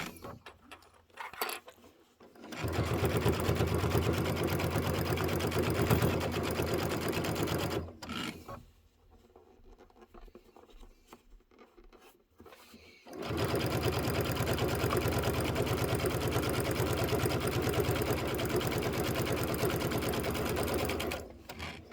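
A sewing machine stitches pieces of a quilted table topper in two long runs, steady and close, separated by a short quiet pause with only faint handling noise, then starting up again.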